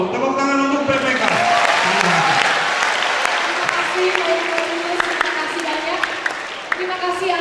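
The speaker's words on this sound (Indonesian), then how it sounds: "Tepuk tangan untuk PPK." An audience at a school talk show applauds steadily throughout, with a voice speaking over the start and occasional individual claps standing out.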